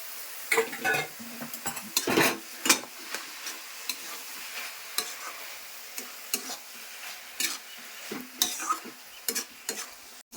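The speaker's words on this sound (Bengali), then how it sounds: "তা একটু ভাজা ভাজা হোক, তারপর নামাচ্ছি।" Bottle gourd and prawn ghonto frying in a pan, stirred with frequent metallic scrapes and clinks over a soft sizzle, close and fairly loud with no talking.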